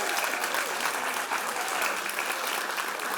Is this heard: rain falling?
no